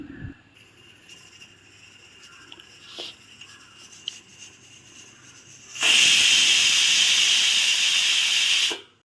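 A pressure cooker holding chicken biryani releases its steam: after a few seconds of faint clicks and handling, a loud, steady hiss bursts out and runs for about three seconds before cutting off abruptly, close and without talk.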